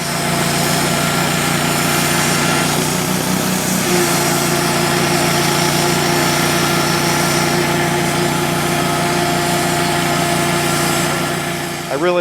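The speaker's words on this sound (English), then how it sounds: "I use an LT35, a Wood-Mizer band mill" A Wood-Mizer LT35 band sawmill runs at a woodsmen show, giving a loud, steady mechanical drone with a constant engine-like hum that holds for the whole stretch.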